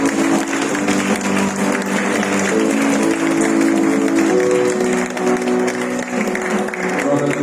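A church congregation at a Sunday service claps together in sustained, dense applause, loud and continuous throughout, with cheering voices and music tones mixed in.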